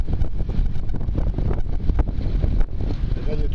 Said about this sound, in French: Et là il y a du ZEF.